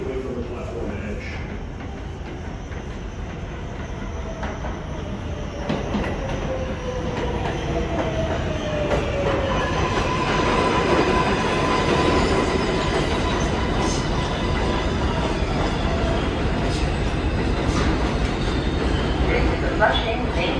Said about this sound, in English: Approaching the station, there is a Manhattanbound local 7 train to 34th Street, Hudson Yard.